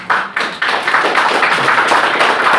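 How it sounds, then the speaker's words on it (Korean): A lecture-hall audience claps for a professor at a feng shui seminar, a dense burst of applause that starts abruptly and carries on steadily and loudly. "우리 뒤에 계신 최명님 담임 교수님 박수 한번 쳐주시오"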